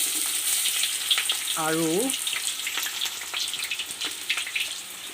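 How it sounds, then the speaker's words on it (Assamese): Onion with ginger-garlic paste frying in hot mustard oil for an Assamese duck curry, a steady loud sizzle throughout with a brief spoken word midway. "এয়া পিঁয়াজ দিছোঁ আৰু পিঁয়াজৰ লগতে আদা আৰু নহৰু পেষ্ট দি দিছোঁ"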